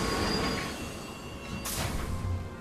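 A train in the Sam & Max video game rumbles and squeals as it pulls into a station, a steady moderate rolling noise with a brief brighter hiss near the end.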